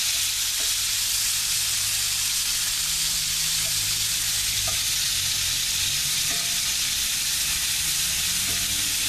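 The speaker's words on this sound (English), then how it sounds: "I've got a little bit over 2 pounds worth of stew beef. It'll get browned up." About two pounds of stew beef browns in a hot pan as chili gets started, giving a steady, loud sizzle and hiss that runs the whole time, with occasional light scrapes of stirring and no talking.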